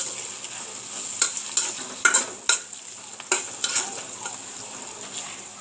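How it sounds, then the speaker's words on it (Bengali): Stirring chopped green chili and cumin paste in a pan, a few short scraping strokes that come in uneven bursts over a soft steady sizzle, close and fairly quiet. "এবার সবগুলোকে নেড়ে চেড়ে নিচ্ছি ভালোভাবে"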